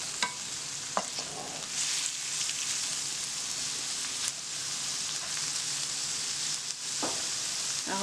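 Cod Provençale cooking in a pan, a steady close sizzle and crackle of frying running continuously, with a few light clicks of utensils and no talk.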